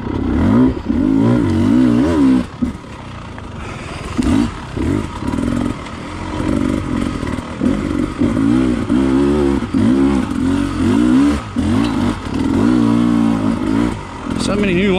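Enduro motorcycle ridden on a wooded trail, engine loud and close, revving and easing in repeated surges with rattling clatter as it climbs and slows over rough ground.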